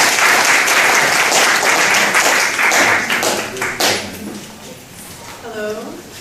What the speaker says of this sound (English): let's welcome our speaker, Leigh Hellman-Kang, with a big round of applause